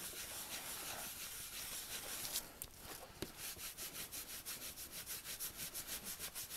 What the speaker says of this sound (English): And then you can start rubbing over the image, the embossed image.